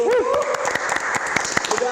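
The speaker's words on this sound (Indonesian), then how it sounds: "Kasih tepuk tangan dulu." An audience at a podcast taping gives a brief burst of close, crisp clapping, with a voice speaking over it.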